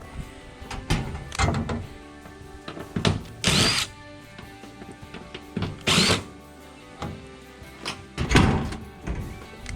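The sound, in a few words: power drill pulling out two screws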